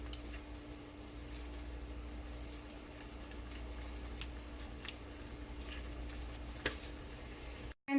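Onions simmer and reduce in broth in a pot, giving a faint, steady soft sizzle with occasional small ticks and pops, quiet and continuous with no talking.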